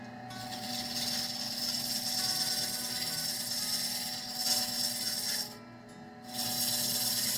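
Wooden pipe being sanded on a woodworking lathe with 150 grit sandpaper, a continuous close rasping hiss over the spinning drone that briefly drops out near the end before resuming.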